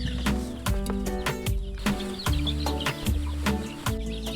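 Young chicks in a poultry brooder cluck and peep in repeated short bursts, close and steady, with a rhythmic clatter throughout.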